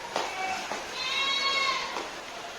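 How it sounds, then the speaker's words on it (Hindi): A goat bleats several times in quick succession right beside a house during heavy rain, its calls rising over a steady background hiss of falling water. "बकरी चिल्ला रही, बगल में बकरी है।"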